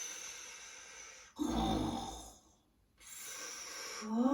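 A voice imitates a monster snoring, with two long breathy snore-like rasps separated by a near-silent pause, close and fairly quiet.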